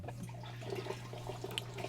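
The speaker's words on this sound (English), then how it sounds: "So it's pushing water back into the reservoir." Water trickles and drips steadily as an AirCube ebb and flow grow system drains, pushing water back into its reservoir, a quiet, continuous gurgle with a low mechanical hum beneath.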